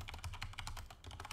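Quiet, rapid computer keyboard key presses and mouse clicks at a desk, a steady run of light taps with no voices.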